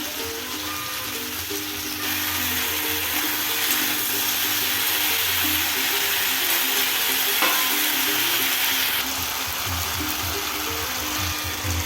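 Pumpkin stalks sauté in a pan with a steady, dense sizzle that grows a little louder and keeps up close and unbroken, with a faint low hum underneath.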